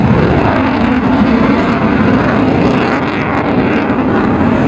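A loud, continuous roar from a nearby airplane engine throttling up at an air show in Tirrenia, Pisa, steady and powerful throughout, with no talking.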